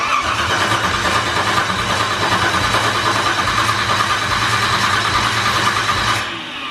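A 383 stroker V8 in a Chevrolet Monte Carlo SS runs after ten years unused, a loud, steady rumbling roar close by that drops off abruptly at the end.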